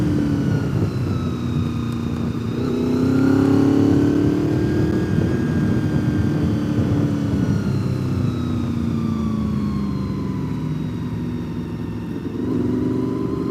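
A group of motorcycles rides past on the road near Deals Gap, engines droning and rising and falling in pitch as they pass, a steady, fairly close rumble lasting the whole stretch.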